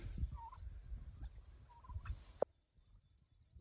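A few turkeys gobble nearby on a farm against a soft rustling background, with a sharp click before a brief quiet moment.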